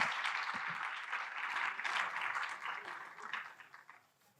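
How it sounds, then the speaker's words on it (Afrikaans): Audience applause at a cultural festival stage event, a dense wash of clapping from a crowd that holds steady, then gradually fades out toward the end, heard at moderate distance. "lekker aan 'n klap vir hierdie 3 mense"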